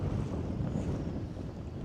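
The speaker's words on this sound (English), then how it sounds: "when it gusts and hits you just right, buddy, it's blowing. I hope it ain't getting all in the microphone." Cold winter wind gusts across open creek water, buffeting the microphone in a steady, loud low rumble with surging peaks, no voices.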